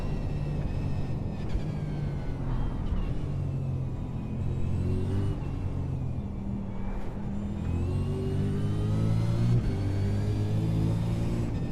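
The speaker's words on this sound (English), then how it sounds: "currently driving the mini stock, which is one of the new cars on iRacing" A mini stock race car in iRacing drones steadily through the whole stretch, its engine note rising and falling with shifts and throttle changes, a continuous mid-pitched rumble with no talk.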